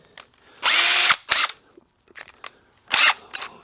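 A power drill with a short bit bores a hole into a wood block for a rail install, sounding in three loud close bursts of whirring with brief clicks and quiet gaps between them, no voices.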